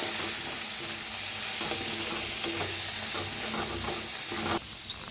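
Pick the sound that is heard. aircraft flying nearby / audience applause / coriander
coriander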